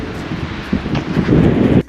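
Storm wind buffeting a microphone fitted with a foam cover outdoors, a loud rumbling, blustery roar that rises in gusts and then drops sharply near the end.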